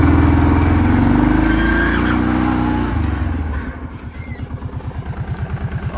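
A Kawasaki Prairie 650 4x4 ATV engine revs hard up close, then drops to a steady, rhythmic pulsing idle for the last few seconds.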